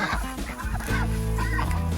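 Chickens clucking and calling together in a mixed flock, several overlapping birds nearby with short squawks and murmurs, fairly loud.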